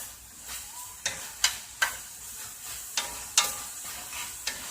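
Peppers and onion fry in a pan under a bright, continuous sizzle, punctuated by about seven sharp, regular stirring scrapes and clicks from a spatula, close and alone with no talking.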